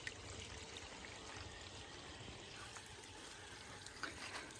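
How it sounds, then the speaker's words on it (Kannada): Water runs from a drip irrigation pipe while its valve is turned, giving a faint, steady outdoor trickle and splash with no clear change in flow. "ಇಲ್ಲಿ ನೀರು ಬೀಳ್ತಾ ಇದೆ. ಇವಾಗ ನಾನು ಈ ವಾಲ್ನ ಈ ರೀತಿ ತಿರುಗಿಸ್ತಾ ಇದ್ದೀನಿ ಆ ಕಡೆಗೆ."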